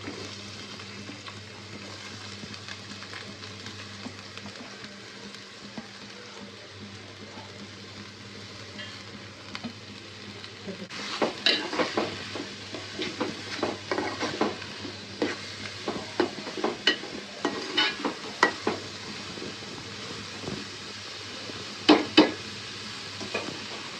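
Chicken frying in a pan with onions, chili powder and turmeric: a steady low hum gives way to busy sizzling and scraping stir strokes, with irregular clattering bursts toward the end and no talk.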